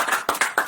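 An audience at a home poetry gathering claps to welcome a guest, a short burst of several close, loud, evenly paced clap groups without speech.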